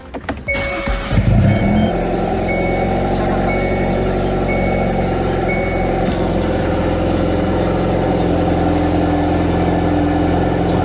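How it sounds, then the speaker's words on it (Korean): A tuned Hyundai Veloster N fires up from cold with a sharp burst, then settles into a loud, steady, rumbling exhaust idle heard close through a slightly open car door. "이게 냉간시 시동 걸었을 때 소리가 이 정도가 되고요."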